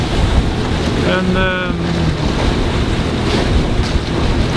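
Strong wind of about 20 to 25 knots roars across the microphone on a sailboat at sea, a steady loud rush with water and hull noise beneath and a brief word spoken partway through.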